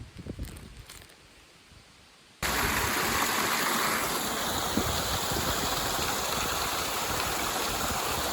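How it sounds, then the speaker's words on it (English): Clear mountain stream on a trail pouring over into a pool, first faint with a few knocks and rustles, then a sudden loud steady rush of running water fills the rest. "here is the good water right here. You can see it running over."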